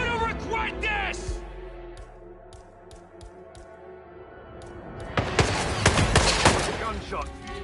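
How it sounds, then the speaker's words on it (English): Gunfire in the game Hitman 3: a rapid burst of shots at the start, several spaced single shots in the middle, then a loud dense volley near the end, with game voices shouting over it. "Gunshot."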